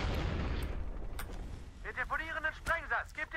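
Explosions and booming blasts in the Medal of Honor Warfighter shooter game, a dense rumble of loud detonations at the start fading under someone talking in the later half.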